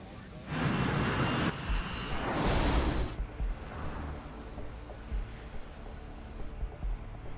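An MD-87 jet airliner accelerates down the runway on its takeoff roll, a broad loud engine roar surging and swelling mid-way, then easing to a steady rumble under a faint background voice.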